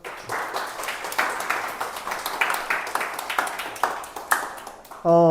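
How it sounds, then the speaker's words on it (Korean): A church congregation claps together during a sermon, a series of sharp, roughly rhythmic claps in a roomy space, ending in a sudden loud tonal burst. "자, 박수."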